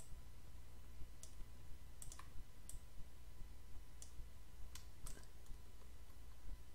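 Computer keyboard keys click singly and in short pairs at irregular intervals. The presses are faint and close, over a quiet room hum with no talk.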